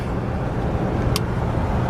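A Lincoln car cruises smoothly along a highway, steady close road and engine rumble with a brief faint high squeak midway.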